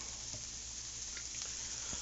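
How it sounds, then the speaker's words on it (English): Meat sizzles quietly in a hot pan while a cheeseburger gravy is made for hash browns, a faint, steady crackle and hiss with a low hum beneath. "start to sizzle a little bit"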